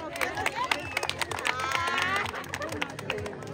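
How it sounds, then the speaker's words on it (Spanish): At a tournament final in Tecolutla, an audience gives a finalist a burst of dense crowd applause with shouts and whistles mixed in, loud and continuous throughout. "venga el aplauso"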